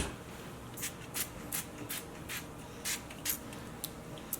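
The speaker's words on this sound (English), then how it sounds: "I'm just going to give it a spray on her hair like that" Several short hissing sprays from a pump bottle onto a toddler's hair, irregularly spaced bursts against a quiet background, fairly close.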